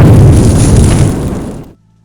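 A single loud magical explosion bursts with a deep boom and rushing blast that holds for about a second and a half, then cuts off abruptly into near silence.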